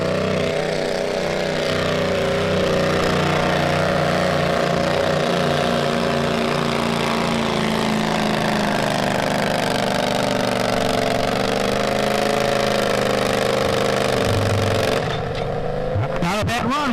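Stock garden tractor engine running at about 4,000 RPM during a 20-class pull at a spring show, a steady loud drone held throughout with an announcer talking over it and a shift near the end.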